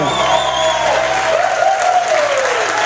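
Wedding guests at a reception give the newlyweds a steady round of applause, many hands clapping together in a dense, continuous wash with a few voices mixed in.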